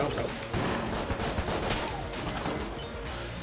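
Rapid gunfire from a Magnum pistol in the dungeon-crawler shooter Enter the Gungeon, a dense run of overlapping shots and game effects across the whole clip with a steady, busy level.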